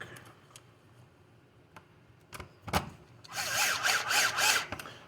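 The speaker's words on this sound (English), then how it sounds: "I just get them started with the cordless drill" A cordless drill drives screws into a rear chassis brace mount on a WRC SBX-2 RC car. After a few soft ticks and clicks, one loud, close whirring burst runs for about a second and a half near the end.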